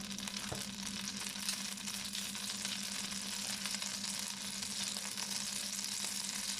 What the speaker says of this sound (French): je fais fondre un petit peu de beurre